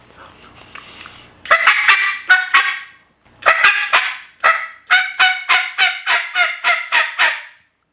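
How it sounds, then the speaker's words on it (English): Turkey calls worked on a mouth call and a Lynch World Championship box call, a series of about a dozen loud, raspy yelps in rhythmic bursts, close and clear with no talking. "I'm either going to be using the mouth call or I'm going to be using the World Championship box call by Lynch."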